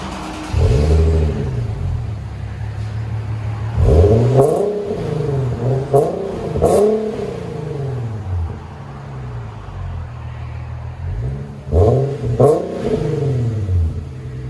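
An Infiniti G37/Q60 3.7L V6 revs hard several times in bursts through an aftermarket exhaust, rising to a roar and dropping back to a rumbling idle in between, close and loud.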